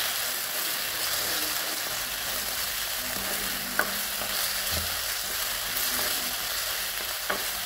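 Tomato with mint and coriander leaves is sautéed for a kurma, a continuous close hiss of frying with occasional light clicks of the spoon against the pan.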